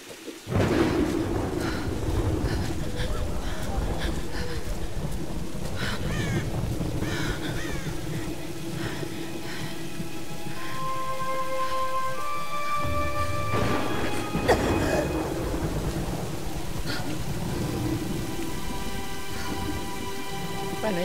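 A thunderstorm rages in the video game Tomb Raider Definitive Edition: continuous heavy rain roars throughout while rumbling thunder rolls in, with crow-like caws and a tonal game effect rising over the storm midway.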